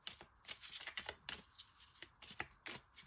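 Arcanum Tarot cards are shuffled by hand, giving a quick, soft run of riffling flicks and taps close by, fairly quiet and with no talking.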